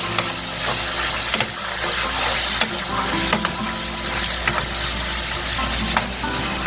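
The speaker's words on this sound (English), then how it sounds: "sometimes the cooking food is pretty noisy when it's this close to the camera" Lean ground beef and onions frying in grease in a pan close by, a loud continuous sizzle with occasional stirring scrapes and taps.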